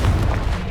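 A Confringo explosive spell cast in the video game Hogwarts Legacy: a short, heavy, booming burst that stays loud and rumbling for under a second.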